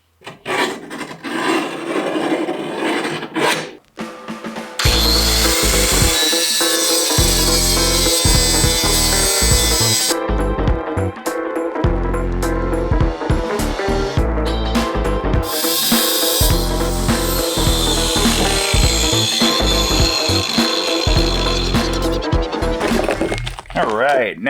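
Angle iron being cut into custom brackets for mounting a washing machine in a skoolie, a harsh continuous grinding rasp that runs loud nearly throughout with brief breaks, and faint speech mixed in.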